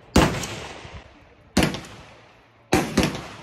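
Three loud gunshots at an outdoor shooting range, each a sharp blast with a rolling echoing tail, spaced about one and a half seconds apart, with no voices.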